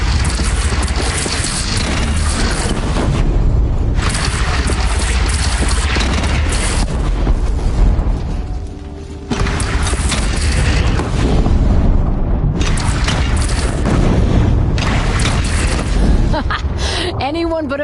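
Cannon fire in the video game Horizon Zero Dawn during a fight with a bandit clan, loud repeated booming blasts and crashing explosions in close succession with short lulls between bursts.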